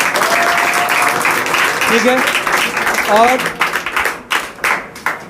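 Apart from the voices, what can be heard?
students applauding at Teachers' Day event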